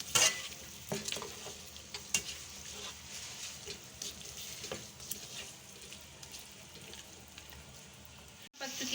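Onions and green chili paste frying in a pot for beef karahi, a steady low sizzle with occasional stirring clatter and scraping, fairly quiet throughout.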